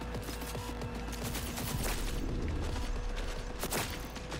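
Gunfire aimed at a car's tires in Cyberpunk 2077 rattles out as a quick mechanical burst of shots, moderately loud over steady game ambience.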